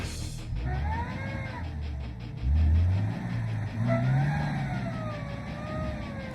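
A small, light Suzuki Jimny 4x4 grinds through mud at a club challenge, its engine revving up loudly in two strong surges over a steady drone, with no talk.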